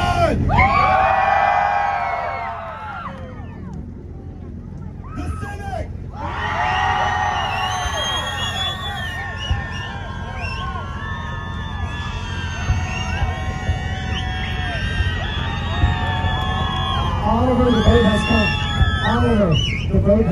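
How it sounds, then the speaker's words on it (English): Crowd at a car rev battle in Bakersfield, California, yelling, whooping and cheering loudly and continuously, with a pause in the noise early on before the shouting picks up again and swells. "I'm just impressed at how long these guys can yell without breathing"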